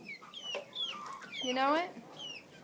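Hens cluck and chatter in a chicken coop with clear, close calls in a loose rhythm, while a person speaks briefly between them.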